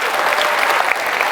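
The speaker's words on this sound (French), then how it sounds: "Applaudissements pour Naël, les amis." Audience applause for a boy during a comedy show, a dense continuous burst of clapping heard up close for a moment.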